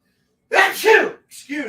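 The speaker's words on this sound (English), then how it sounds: "Oh, I had to sneeze there." A woman sneezes once up close, a sharp two-part burst, and is followed right after by a brief spoken word.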